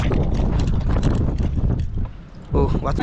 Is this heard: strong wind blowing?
yes